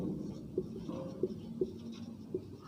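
Marker strokes on a board as the word keyboard is written, a few soft squeaky taps spaced about half a second apart over low room hum, fairly quiet and close.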